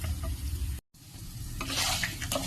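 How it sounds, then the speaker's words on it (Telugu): Green chillies frying in oil in a pan for a cucumber chutney, a close, steady sizzle with a brief cutout before it resumes and rises, with no talk. "ఇందులోనే మిరపకాయలు కూడా వేసి వేపుకోవాలి"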